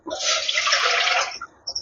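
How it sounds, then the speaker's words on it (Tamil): Water pours steadily into a cooking pot for about a second and a half, a close splashing gush that stops abruptly, with no talk over it. "ஒரு அரை லிட்டர் தண்ணி ஊற்றிருக்கேன்"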